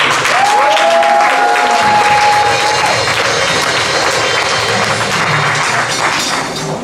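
A church congregation applauds, a loud, dense, sustained clapping from a large crowd indoors, with a brief sustained tone ringing over the start and the applause tapering slightly near the end.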